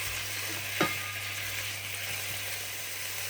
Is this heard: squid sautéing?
yes